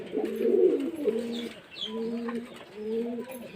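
Domestic pigeons coo close by in repeated low, throaty phrases, one loud rolling coo followed by several softer ones with short pauses between, and a faint chirp in the background.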